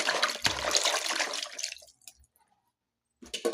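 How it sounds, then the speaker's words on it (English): Tap water runs steadily as a small piece of raw meat is rinsed at a sink, a continuous splashing flow for about two seconds that cuts off into quiet before a brief rustle returns at the end. "So this is our meat. It's very small, guys, but this one is enough for me. Let us wash it"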